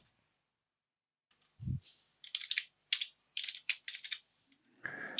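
Keys clatter on a computer keyboard in short quick bursts after a second of silence and a single low thump, the clicking rhythmic and close, ending in a brief rustle.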